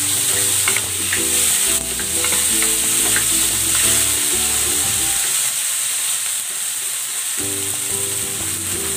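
Garlic and tomato sautéing in a pan with a loud, close sizzle and bursts of stirring, over background music, the hiss easing briefly before swelling again, with no talk.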